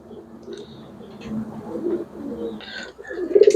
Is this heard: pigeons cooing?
yes